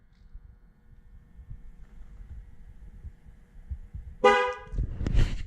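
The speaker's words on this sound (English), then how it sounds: "So it honks and lets you know the tire is trained." A 2018 Ford Mustang GT gives a short horn honk during tire pressure sensor training, a single bright toot breaking through low rumbling handling noise, followed by a second fainter beep.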